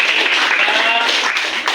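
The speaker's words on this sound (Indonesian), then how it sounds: "Tepuk tangan lagi." A classroom audience applauds after a group presentation, a dense and fairly loud wash of clapping hands that carries on steadily throughout.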